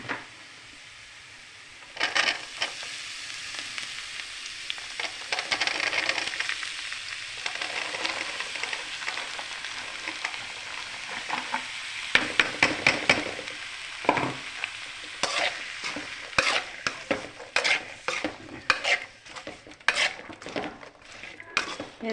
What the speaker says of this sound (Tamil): இப்போ பீக்கங்காய் போட்டுக்கலாம்